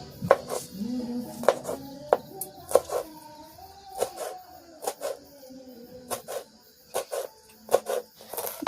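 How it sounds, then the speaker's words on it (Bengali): A knife chops a large green chili on a board in a village kitchen, giving a string of crisp, close chops at an uneven pace, with faint vocal sounds in the background. "একটা মরিচ নিচ্ছি বড় দেখে, এটা এখন কুচি কুচি করে দিয়ে দেবো"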